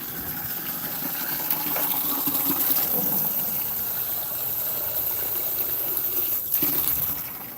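Running water pours steadily onto a garden bed of newly planted beets, a continuous close gushing and trickling with no talk over it.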